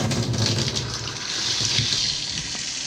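Steady, close hiss of water pouring from a rain shower head on a newly installed shower valve with a 3-way diverter and copper piping, a continuous spray running alone with no talk.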